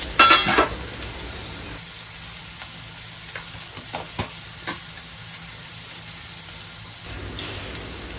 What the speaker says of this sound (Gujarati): જે આપણે મીડિયમ જાડા ટુકડામાં સમારેલું છે પરવળ તે નાખી દેશું.